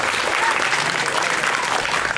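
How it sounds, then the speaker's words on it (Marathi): An audience applauds loudly and steadily at a community get-together where students are given writing supplies. The clapping is a dense, continuous burst of many hands that keeps its strength throughout, with faint crowd murmur underneath. "सर्वांनी जोरदार टाळ्या वाजवून अभिनंदन करा।"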